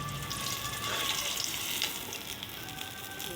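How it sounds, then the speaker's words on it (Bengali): Pointed gourd (potol) pieces frying in hot oil in a home kitchen, a continuous loud, bright sizzle with faint stirring scrapes throughout. "পটলগুলো ভেজে নিই"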